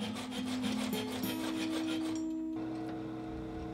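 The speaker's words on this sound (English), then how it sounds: "I need to file the weld beads back to the square of the steel" A hand file rasps back and forth over weld beads on square steel stock in a metal shop, with rhythmic strokes for about two and a half seconds before fading to a quiet hum.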